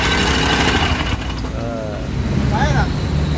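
A repaired tamping rammer's small engine starts easily and runs loudly, a dense steady mechanical roar close by through the whole stretch, with voices talking over it.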